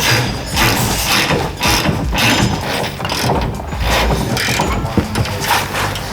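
A ratchet wrench working a nut loose on a 1967 Jeepster, giving loud close mechanical clicking and grinding in repeated bursts with short pauses between strokes.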